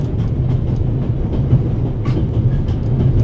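A train from The Raven Remastered rolls along the rails with a steady low rumble and faint rhythmic clatter, continuous and fairly loud throughout, with no talking.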